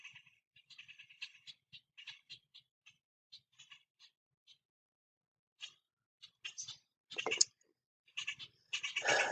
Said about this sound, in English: Squawking birds.